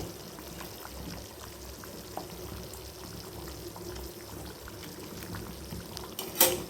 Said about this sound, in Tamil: இப்போது இந்த வெள்ளைப்பொடியை நம்ம குழம்புல சேர்த்துக்குவோம்.